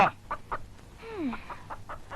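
A hen clucks in a short run of soft, evenly spaced calls at moderate distance, with one drawn-out, rising-and-falling squawk near the middle.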